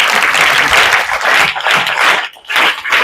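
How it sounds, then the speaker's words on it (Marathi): Audience at a school speech event applauding loudly, dense sustained clapping that briefly dips and swells again. "टाळ्या"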